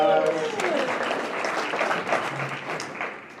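Another round of audience applause at a live fundraiser event, a steady dense wash of many clapping hands with some cheering voices mixed in, holding fairly loud before easing slightly toward the end.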